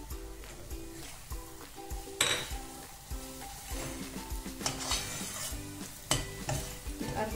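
A spoon stirs modak filling with cardamom powder and sesame in a pan, giving soft scraping and a gentle sizzle under steady background music, with a few sharper clinks of the spoon against the pan.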